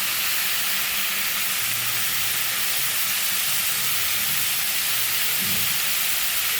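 Tomato, shallots and bottle gourd sauté in a pan, giving a steady broadband sizzle and hiss that holds throughout, with faint low clatter underneath and no talking.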